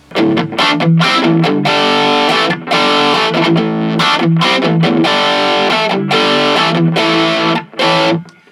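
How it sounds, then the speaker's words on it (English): Electric guitar played through a distortion pedal with a heavily distorted tone, with chugging chords and short pauses between loud, gritty phrases. "we can move between that territory of overdrive into full distortion"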